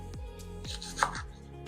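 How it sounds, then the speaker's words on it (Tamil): An onion is cut into large pieces on a board for eggplant chutney, with about five crisp, evenly spaced knife strikes close by and no voices. "அதனால் கொஞ்சம் பெரிய பெரிய துண்டுகளாகவே நம்ம வெட்டி போட்டுடலாம்."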